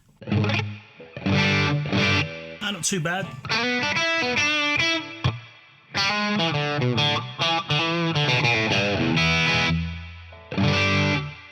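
Heavily overdriven electric guitar through a Wampler Dual Fusion overdrive pedal plays chords and riffs loudly in bursts with pauses, and a short spoken remark slips in between.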